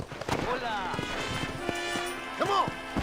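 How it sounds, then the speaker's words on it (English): Hooves of a horse in Red Dead Redemption clip-clop at a steady trot beneath an ongoing game soundtrack with tonal music and a brief whinny-like call, and no talk. "Where's my freaking horse?"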